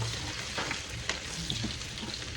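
Fish frying in a small amount of cooking oil, a soft continuous sizzle with light crackles and a few stirring scrapes, fairly quiet and close.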